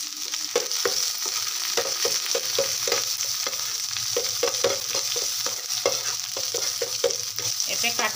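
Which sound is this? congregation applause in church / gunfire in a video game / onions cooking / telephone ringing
onions cooking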